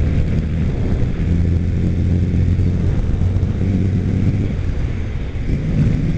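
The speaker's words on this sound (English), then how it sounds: "I want to get in front of this big giant trash truck." A big garbage truck drives close by, its engine a loud, steady low rumble with muffled roadway noise and some wind buffeting, carrying on without a break.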